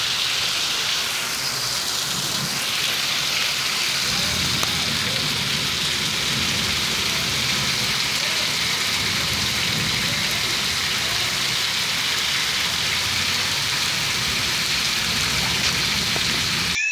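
Heavy rain pouring steadily on a farm in Ilhota, a constant dense hiss that lasts throughout with no letup, loud and close, with a faint low rumble underneath.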